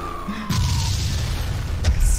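A sudden booming explosion effect hits after a short tone, rumbling loudly and continuing with a low roar and a second thump.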